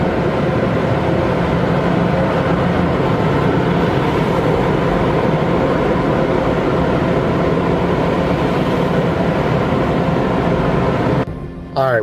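Car wash dry-cycle blowers roar in a loud, steady broadband rush that runs unbroken for most of the stretch, then cuts off abruptly near the end.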